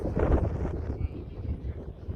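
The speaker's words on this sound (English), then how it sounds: "Sorry it's windy." Wind buffeting a microphone outdoors at Red Rocks, low rumbling gusts that are loudest at the start and then ease slightly, with a voice faintly mixed in.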